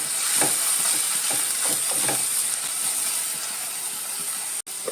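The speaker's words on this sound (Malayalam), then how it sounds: "പച്ചമുളകും സബോള ഇത് നല്ലോണം ഒന്ന് വഴന്ന് കിട്ടും" Green chillies and onion sauté in a pan for leftover-rice egg fried rice, giving a steady close frying sizzle and hiss with a few soft scraping stirs, no talking.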